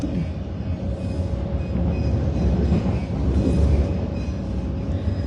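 A train rolls past at close range, giving a steady, loud rumble and roar with rail noise throughout and no talking.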